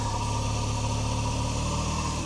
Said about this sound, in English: we've just been sitting here idling now for about 10 minutes